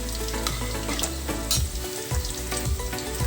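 Chicken fillet frying in a pan, a steady loud sizzle with crackling oil and occasional soft scrapes and clinks of stirring, no voices.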